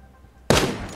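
Gunfire in the battle-royale video game Knives Out: after a quiet stretch, one loud, sharp burst of shots hits midway and rings out to the end.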